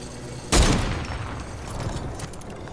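A hunting rifle fires in Fortnite Battle Royale. One sharp, loud shot cracks out after a moment of low background, and its echoing tail lingers before settling into ongoing game ambience.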